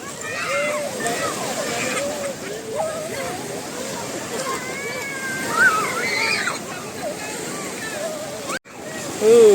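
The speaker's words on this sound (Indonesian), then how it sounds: "Kemudian ombaknya pecahnya di tengah" Waves breaking offshore at a sandy beach with coral at Krui, a continuous washing surf rumble beneath people chatting and calling out close by.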